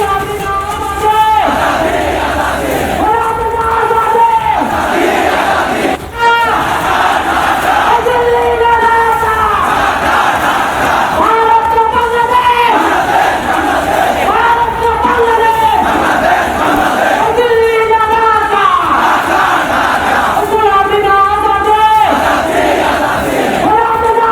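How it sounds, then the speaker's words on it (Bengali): A large crowd on a Dhaka street chanting anti-India slogans in a call-and-response rhythm, loud, massed voices rising and falling in repeated waves, with shouted phrases and a steady roar of the crowd beneath. "এই মুহূর্তে ঢাকার আকাশ কাঁপছে গগনভেদী স্লোগানে, এবং সেই স্লোগান হচ্ছে ভারত বিদ্বেষী স্লোগান।"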